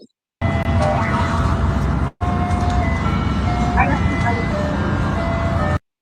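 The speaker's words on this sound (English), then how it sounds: "an ice cream truck appears after 9 p.m." An ice cream truck on a Virginia street after 9 p.m., its chiming tune playing steadily for about five seconds over a constant rumble, with a brief dropout partway through.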